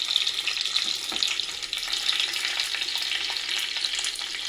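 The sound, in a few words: garlic sizzling in spluttering tempering oil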